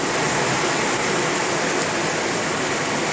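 Floodwater flows in a steady, loud, unbroken rush around a flooded yard with no drainage, a broad hiss filling the short stretch without pause.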